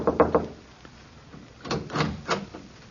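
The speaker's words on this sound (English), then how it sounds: "I knocked on the apartment door." Knocking on an apartment door: a quick group of three sharp raps, a pause, then another set of three slightly heavier knocks, close and fairly quiet in a radio-drama setting.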